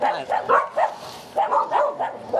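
Several dogs bark and yip in quick, excited bursts close by, with short pauses between the barks.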